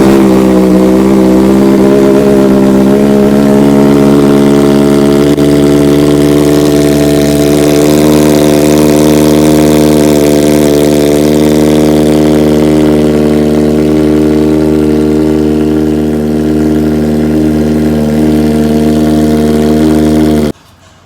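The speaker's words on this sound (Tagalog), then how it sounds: "So sound check natin ng cold start. Yan, cold start." A Kawasaki ZX4RR motorcycle fitted with an Austin Racing exhaust idles steadily on a cold start, a loud, close, droning engine note holding even for about twenty seconds before cutting off abruptly.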